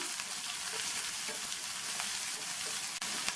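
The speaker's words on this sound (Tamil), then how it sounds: "எண்ணெய் சூடானதும் அதில் கட் பண்ண ஒரு மீடியம் சைஸ் வெங்காயம், இது கூட 5 பல் பூண்டையும் சேர்த்து வதக்கிக்கணும்" Chopped medium onion and five garlic cloves fry in hot oil, giving a steady, even sizzle with faint scraping throughout and no voices.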